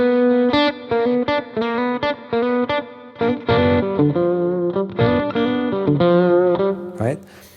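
An electric guitar plays a quick dominant 7 arpeggio lick of separate picked notes with effects, in a rhythmic run, ending in a brief noisy strum.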